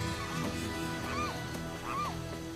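Repeated honking bird calls, rising and falling, sound over a steady hum of background noise.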